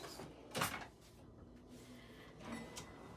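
A kitchen drawer in a tiny house slides open with a short scraping rumble, followed by quieter faint rattles and another soft slide near the end, close by but low in level.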